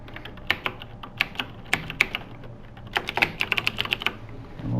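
Someone types a password on a computer keyboard, a quick series of crisp, close key clicks in short irregular bursts, with brief pauses between groups of keystrokes and no speech.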